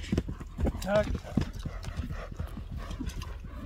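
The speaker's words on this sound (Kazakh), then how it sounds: "Атты өзүңүздөр көрүп турасыздар" Hooves of a trained racing horse clip-clopping at a walk close by, a steady uneven beat of hard strikes with people talking over it.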